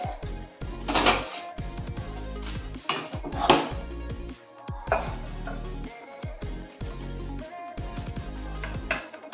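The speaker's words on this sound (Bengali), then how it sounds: "এবার এটাকে একটা বাটিতে ঢেলে নেব।" Dishes clink and clatter in a home kitchen as cooked food is tipped into a bowl, a series of close, bright knocks and scrapes in irregular bursts with no talking.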